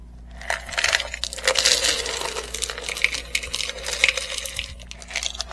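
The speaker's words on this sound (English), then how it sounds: "These are glass pieces." Colored glass pieces for a Christmas craft clink and rattle as they are handled, a series of small, close, irregular clicks and scrapes with no talking.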